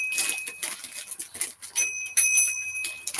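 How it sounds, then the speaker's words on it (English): A small hand bell inherited from a grandmother is rung indoors, giving a few clear, sustained metallic rings that linger over soft handling noises. "here is a bell."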